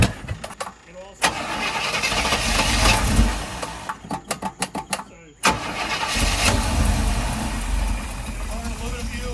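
A 1984 GMC square body truck engine cranks, catches and sputters in several attempts, then starts and runs roughly with a loud, close engine note, with a voice speaking over it.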